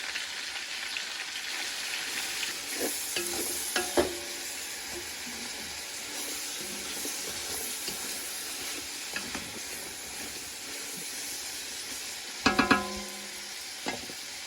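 Steady sizzling of lard and onions frying in a pan with occasional scraping stirs, a quiet continuous hiss throughout.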